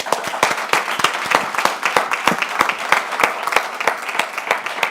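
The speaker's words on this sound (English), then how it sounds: "I'd like you to join me in a big clap to the participants who are creating this" An event audience claps for participants, steady, fairly close applause from a moderate crowd with distinct individual claps throughout.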